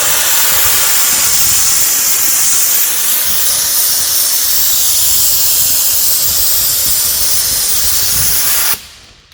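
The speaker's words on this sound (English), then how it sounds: "So take your steamer." A handheld steamer hisses loudly and steadily against a race car's interior for about nine seconds, a broad continuous rush that cuts off abruptly near the end.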